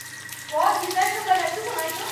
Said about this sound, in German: Und jetzt kommt das Wasser dazu.